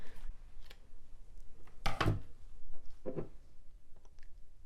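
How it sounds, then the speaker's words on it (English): Scissors snip a homemade candle's wick, one crisp cut standing out among a few softer clicks and rustles, close up and quiet. "You're going to see that the wick's pretty long, so we're going to go ahead and trim that to 1/4 of an inch."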